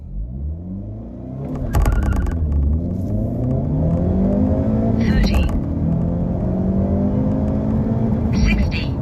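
A 2025 Hyundai Elantra N with a manual gearbox accelerates hard from a standstill with traction control off, its engine note rising and dropping through brief pauses at the gear changes, loud and close throughout.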